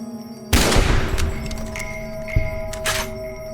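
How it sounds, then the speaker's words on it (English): One sharp, loud Sharps carbine rifle shot cracks out in Fallout New Vegas and rings off into a lingering tail, followed by a shorter burst of noise near the end. "I pulled the old Sharps carbine out and took aim, being careful to line up my shot."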